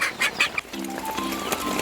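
Chickens near their coop during rain, giving a few quick clucks and squawks followed by short repeated tonal calls, close and fairly clear over a soft background hiss.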